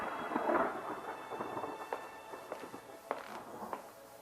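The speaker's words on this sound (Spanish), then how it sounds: "situándolos a todos en el ojo de la tormenta, lo que de vez en cuando provocaba algún que otro sonido ensordecedor desde el exterior." A thunderstorm rumbles outside, with a heavy muffled thunder roll at the start followed by rain and scattered crackling drops and taps, moderately loud and without voices.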